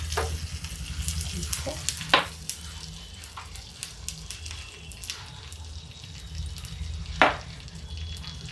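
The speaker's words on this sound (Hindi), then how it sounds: "सर्व करके इसमें एक तड़का लगा देती हूँ" A tadka of cumin sizzles in a pan as tempering for kadhi: soft, continuous frying hiss with a few sharp pops and spatters, heard close but fairly quiet.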